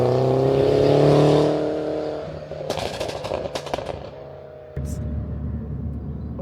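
Turbocharged Mini with a 6-speed gearbox and an aggressive engine map, revving hard and then easing off with a burst of rapid crackling pops and bangs, followed by a lower, steadier engine drone, close and loud.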